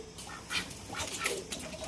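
A duck quacks in a short run of several calls at close range, bright nasal bursts over a soft outdoor background, with no voices present.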